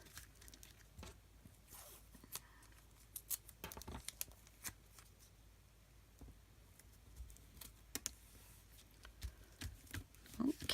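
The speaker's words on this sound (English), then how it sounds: "And I'm going to tape this bad boy down." Tape pulled and torn to hold a paper stencil flat for ink blending, a run of soft crackling rips and taps close by, scattered through a quiet room.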